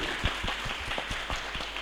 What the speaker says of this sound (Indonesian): Nah, tepuk tangannya dulu.